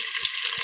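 Onion and garlic frying in a pan of oil make a brief, steady close sizzle with a couple of faint low bumps from stirring.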